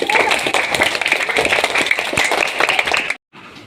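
A classroom of children claps loudly for a fourth-grade student who solved a Rubik's cube, dense continuous applause that cuts off abruptly near the end before a faint tail resumes.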